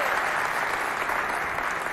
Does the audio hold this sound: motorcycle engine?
no